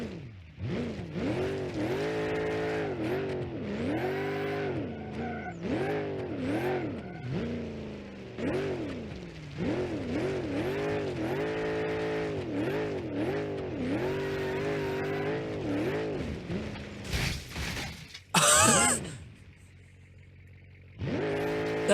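A car engine in BeamNG.Drive, a Roadkill project car called the Dominator with no rev limiter, revs hard and repeatedly in rising and falling surges, loud and close, with brief tire squeal near the end.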